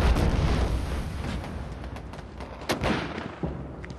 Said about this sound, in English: I expect this mortar fire to stop shortly, sir.